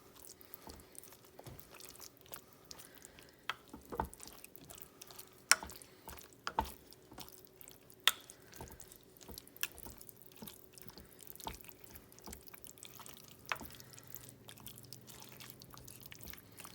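A spoon stirs buffalo chicken dip in a crockpot, giving quiet, irregular scrapes and soft wet clicks with a few sharper taps against the pot, all faint and without talk.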